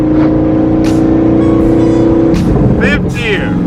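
A 2012 twin-turbo Boss 302 Mustang, over 900 hp, pulls hard through the gears with a loud, steady engine drone that climbs in pitch and drops at each shift. Someone talks over the engine.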